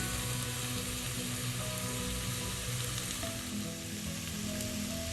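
Chili powder sizzling in oil as garlic chicken cooks in a pan, a dense, constant loud frying hiss close up with faint stirring and no voices.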